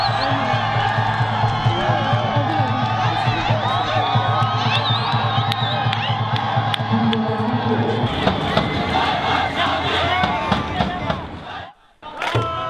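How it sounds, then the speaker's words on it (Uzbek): Stadium crowd roaring and cheering after a football match, a dense wash of shouts and applause that stays loud throughout, then dips briefly near the end before swelling again. "olqish sadolari ko'tarildi"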